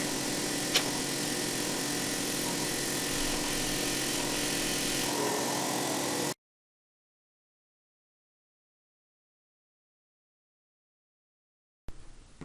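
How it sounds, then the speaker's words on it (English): Drill boring 1/4 inch holes through a plastic dust shield for a band saw table plate, a steady broadband whirring grind that runs continuously for about six seconds, then cuts to silence before a brief burst returns at the end. "I'm drilling 1/4 inch diameter holes, which will enable this dust shield to be mounted to the plate"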